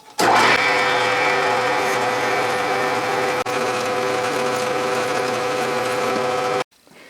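A number 19 drill bores a hole on a Unimat lathe, a steady high-pitched whirring grind that holds constant for several seconds, with one brief dip midway, then stops sharply.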